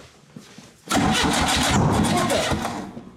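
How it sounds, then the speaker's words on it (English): A car engine cranks briefly, then catches on the first ignition attempt with a sudden loud roar and settles into a rough, steady run with faint pops, close by and alone. "here's the first attempt at starting with the feature on, with gas in the car"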